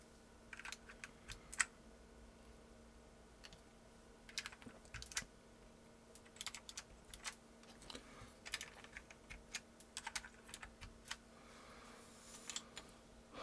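Typing on a TheVan MiniVan R2 compact keyboard fitted with Blue Alps switches, giving crisp clicky keystrokes in uneven bursts and pauses, close up over a faint steady hum.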